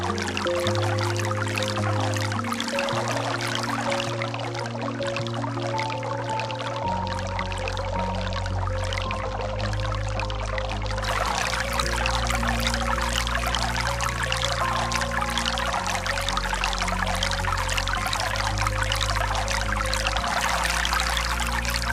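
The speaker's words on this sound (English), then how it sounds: "I sat near the river and listened to the peaceful sound of flowing water." River water flows through a forest in a steady, even rush that continues without pause beneath a layer of sustained music.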